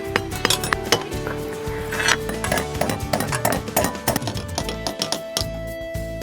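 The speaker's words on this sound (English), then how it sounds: "You don't screw anything, you're simply just nailing this guy in." Nails hammered in to fix a bracket for a window frame planter, heard as sharp, close metallic knocks coming in quick irregular runs, with clinking in between and no talk.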